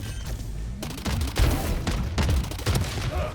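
Tejo's Guided Salvo missiles launch in Valorant: a dense run of booming, gunfire-like bursts and whooshes over steady in-game noise, with several loud thumps spaced about half a second apart.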